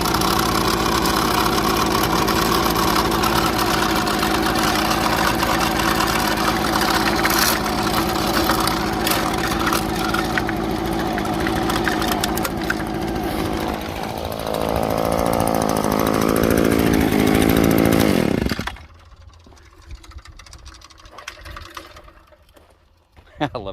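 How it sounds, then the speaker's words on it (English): A small engine on a gold prospecting machine idles, shaking and rattling in a loud continuous drone, close by, before cutting out near the end to quieter outdoor sound. "this machine. That's on idle. It's just shaking away."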